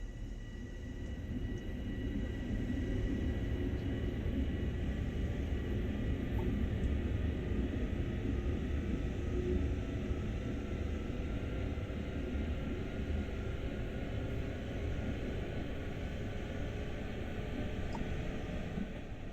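Interior ride of an M7 electric multiple unit train in Train Sim World: a continuous low rumble and rolling hiss with faint high electrical whine, steady throughout without voices.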